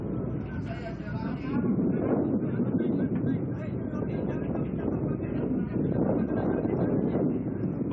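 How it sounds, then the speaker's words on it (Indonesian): Strong wind roars steadily with rain at sea during a rescue of crew from a sinking LCT landing craft off Tanah Laut, a constant loud buffeting wash with no clear breaks. "karena hujan angin"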